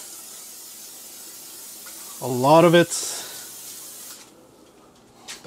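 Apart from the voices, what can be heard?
olive oil spray into wok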